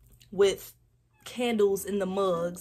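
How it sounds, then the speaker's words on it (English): A pet cat meows once, a short close call, then a person talks over the quieter end of the sound. "That's my cat."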